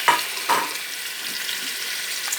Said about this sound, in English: So I'll be adding my shrimp right here to the oil.